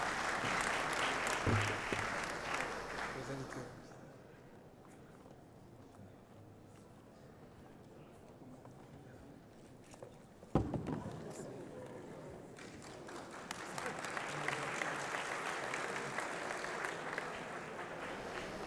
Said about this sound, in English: Please, I need a round of applause for Fatima, please.